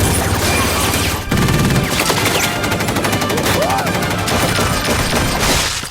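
Rapid machine gun fire from a movie scene, dense bursts of gunshots rattling loudly and almost continuously with booming impacts mixed in, a brief gap near the start.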